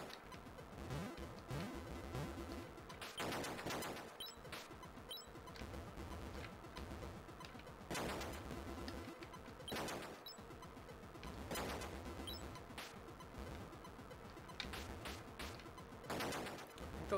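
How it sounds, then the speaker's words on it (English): Rapid electronic shooting from the Atari 2600 homebrew game Oystron, bursts of harsh buzzing blasts repeating every couple of seconds over a constant synthesized drone, with no talking. "I'm shooting."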